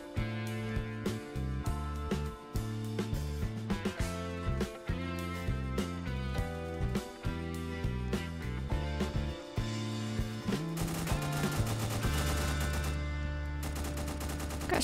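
Rapid bursts of gunfire in the Roblox game Prison Life, sharp repeated shots over a loud, steady musical backing, getting denser and more sustained near the end.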